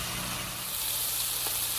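Food sizzles in a scorching-hot cast iron pan, a brief, steady crackling hiss held close with a low hum underneath and no talking.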